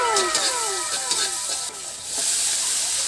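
Pechay (bok choy) hits a hot pan and sizzles as it is sautéed, a loud, continuous frying hiss with a few brief clattering stirs and a short dip in the middle.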